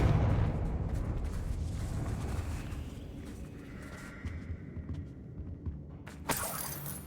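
A Confringo blasting spell fires in Hogwarts Legacy, a dense roaring blast that fills the opening seconds and rumbles on as a long, slowly fading wash, with a sharp crackling burst near the end.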